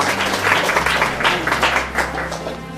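Applause from guests at an association's Christmas Mass and dinner greets a newly welcomed member, dense and steady clapping close by with a low hum underneath, no talking.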